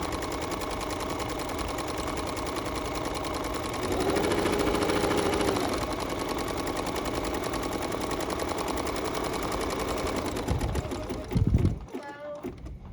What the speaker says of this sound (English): So I'm just gonna go ahead and stitch this white thread down.